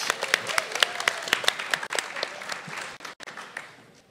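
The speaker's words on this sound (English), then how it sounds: "give a huge round of applause to all of our poets" Scattered applause from an audience for student poets and judges at a spoken word event, with distinct individual claps over a lighter crowd patter that thins out toward the end.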